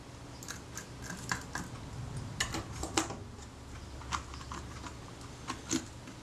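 A metal component is worked loose from the body of a Retina IIIC type 028 camera, giving a scattered series of tiny close clicks, ticks and scrapes over a faint background hiss.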